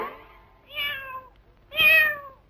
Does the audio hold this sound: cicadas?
no